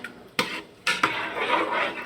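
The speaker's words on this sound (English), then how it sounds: "And then I'm gonna stir it up again." A spoon stirs homemade cheese sauce in a pot, with sharp metallic clinks against the pot followed by a soft wet swishing of the sauce, close and alone.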